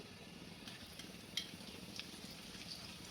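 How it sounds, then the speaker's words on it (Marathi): Cumin seeds and garlic frying in hot ghee, a soft steady sizzle with occasional light clinks of a utensil stirring the pan, faint and close throughout. "आपण तूप गरम केलेलं आहे त्याच्यामध्ये आपल्याला घालायचं आहे जिरं जिरं थोडं थोडं तळून द्यायचं आहे"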